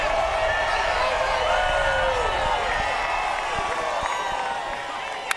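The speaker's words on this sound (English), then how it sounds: "Listen to the crowd." Crowd at Michigan International Speedway cheering after a NASCAR Cup Series race finish, a broad roar of voices and whoops with some clapping that slowly fades, while commentators talk over it.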